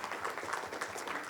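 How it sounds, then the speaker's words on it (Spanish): A conference audience at an atherosclerosis and endothelium congress claps for the panelists, a faint, steady patter of many hands heard from a distance. "pido un aplauso para ellos"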